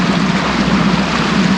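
A fishing boat's outboard motor idles on the water while the boat creeps over ridges, a steady, loud, unbroken droning hum with no voices.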